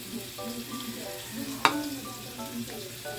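Shrimp frying in a pan with garlic and onion, a quiet steady sizzle with one sharp clatter of a utensil midway, close and without talking.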